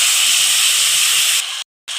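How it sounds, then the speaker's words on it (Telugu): Cut raw banana drops into onions frying in oil, raising a strong, even hiss that runs continuously, thins briefly, then cuts to silence before resuming; nobody speaks. "ఇప్పుడు కట్ చేసి పెట్టుకున్న అరటికాయ వేస్తున్నాను"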